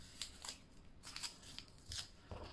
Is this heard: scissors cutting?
yes